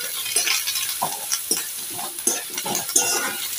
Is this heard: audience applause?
no